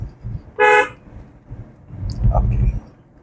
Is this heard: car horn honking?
yes